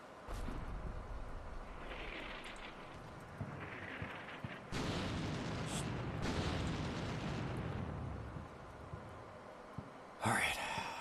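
Mortar rounds fire and explode in the Combat Mission Shock Force 2 war game, with heavy rumbling booms and bursts over steady background noise and a sharp crack near the end.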